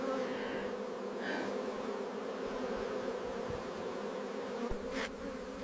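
Honey bees drone steadily around hive frames in a continuous, moderately faint buzz, with a few brief knocks and clicks breaking through.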